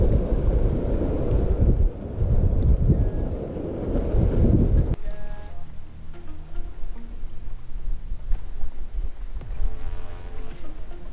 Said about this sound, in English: This water looks like it's getting pretty dirty with this wind pounding this bank.